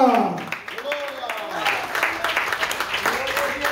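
A church congregation claps for Christ during a Sunday morning service, a dense, steady wash of applause filling the room while voices call out over it.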